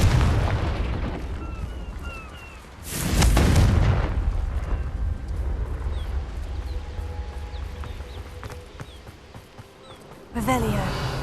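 A blasting-spell explosion in a Hogwarts Legacy game: a sudden loud boom with a rumbling tail over steady game ambience, followed by a second blast near the end.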